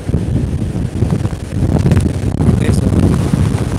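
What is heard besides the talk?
strong wind at seaside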